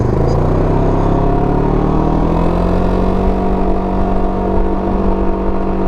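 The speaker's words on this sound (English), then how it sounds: "you get on the throttle and it's that old exhaust she's pretty loud." A Can-Am Ryker 600 three-wheeler accelerates on the throttle, its old, loud exhaust giving a steady, strong engine drone with a rising tone that holds close and loud throughout.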